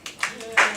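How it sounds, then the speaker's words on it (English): Students in a lecture class clapping, a few scattered, uneven claps over less than a second that build toward a louder burst at the end. "You want to applaud?"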